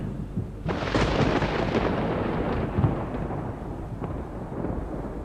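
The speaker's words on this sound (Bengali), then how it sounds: "কান ফাটানো শব্দে বাজ পড়ল আবার" A loud, deep thunder crash bursts in and rolls on with a long rumbling tail, fading slowly, heard alone without voices.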